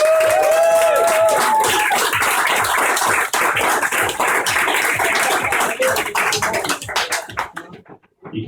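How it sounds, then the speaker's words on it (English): A comedy club crowd at the Edinburgh 2014 fringe applauds the MC, loud, dense clapping close by that continues, then thins out and tapers off at the end. "Ladies and gentlemen, can I have a massive round of applause for your MC,"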